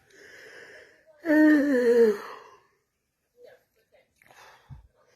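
A person doing an exaggerated, drawn-out yawn, one loud groaning breath in the middle, with brief spoken words and soft breaths around it.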